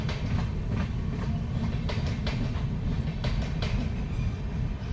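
A train rolls through a railway station on the Sairang route near Aizawl, a loud continuous rumble with faint rhythmic clicks from the wheels.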